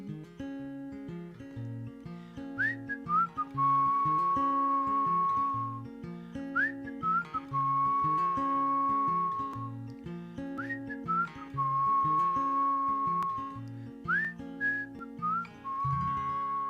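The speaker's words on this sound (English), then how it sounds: "Was that always going to be a whistle" A whistled melody carries a song in a live acoustic session, with sustained whistled phrases rising and gliding over steady guitar chords, clear and close throughout.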